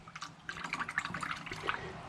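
A paintbrush used for water-soluble foam tack is swished and rinsed in a container of water, giving soft, quiet, irregular sloshing and dripping for about two seconds.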